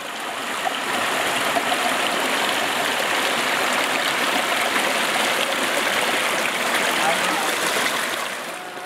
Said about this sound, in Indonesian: Sumber air panas keluar dari sisi tebing Sungai Angam